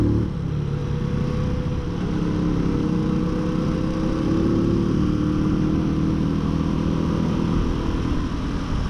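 A custom-built Honda Super Cub NBC110 motorcycle is ridden in New Zealand. Its small engine keeps up a continuous, close, even drone with little change in pitch for the whole stretch.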